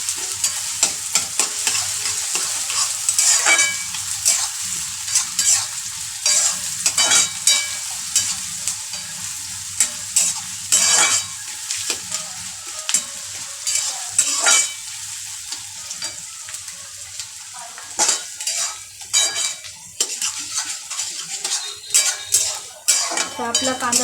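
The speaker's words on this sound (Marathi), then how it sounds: "कांदा पण चांगला लाल करून घ्यायचा आहे." Onion frying in a pan while a spoon stirs it constantly, with a loud, close sizzle under repeated scraping and clanking against the metal.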